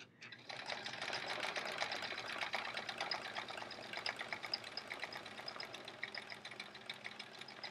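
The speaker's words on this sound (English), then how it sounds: "I can tell my sewing machine's working hard tonight." Domestic sewing machine stitching steadily during free-motion quilting of a chevron fill, a continuous fast rhythmic whirring and clatter heard up close with no pauses.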